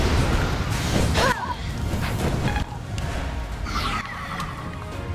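A golem's wall shattering open in the Fire Emblem Three Houses video game: a dense, loud crash of rubble and debris under layered game music and effects, with a sweeping whoosh partway through.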